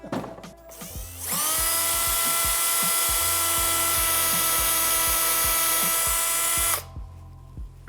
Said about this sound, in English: Now I'm drilling pretty slow in this, so it's not getting too hot.